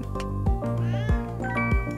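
A cartoon kitten in the virtual-reality video game Kitten'd meows repeatedly in short, bright, rising-and-falling calls, close and clear, with several distinct meows spaced through a steady background of game music.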